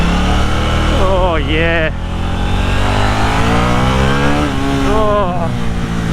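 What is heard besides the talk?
KTM Duke 890 motorcycle engine accelerating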